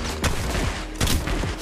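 Gunfire in the mobile shooter Apex Legends Mobile rattles out in loud, rapid bursts, with dense overlapping shots coming in two clusters.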